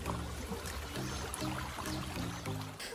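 Water pours and trickles through a small diversion of an old irrigation channel inside a reed tunnel, a steady close flow with low rhythmic gurgling pulses.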